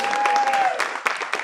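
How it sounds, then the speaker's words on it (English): A comedy club crowd claps for a comedian, a short burst of applause that fades quickly, with a voice briefly heard over it. "Ooh, the claps stop real fast."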